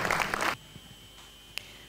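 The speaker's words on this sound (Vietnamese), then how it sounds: "Xin mời quý vị cùng dành một tràng pháo tay." A short burst of audience applause at the opening of a yoga centre in Đông Xuyên, Tiền Hải, loud for about half a second and then cut off abruptly, followed by near silence and one small click.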